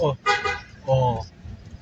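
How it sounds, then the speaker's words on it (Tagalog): Two short honks of a car horn, loud and nearby on a Manila street, separated by a brief pause, with some background noise between them. "Lakas na busina. Malakas."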